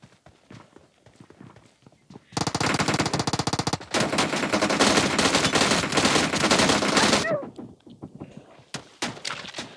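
Sustained automatic gunfire from a Groza assault rifle in a shooter video game, loud, rapid bursts running for about five seconds, with lighter clicks and footstep-like taps before and after.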